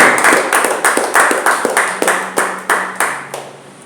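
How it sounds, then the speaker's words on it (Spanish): Rhythmic unison clapping from a church congregation after a prayer, about ten sharp, evenly spaced claps in a steady beat, loud and close, fading slightly toward the end. "Denle un aplauso a Él."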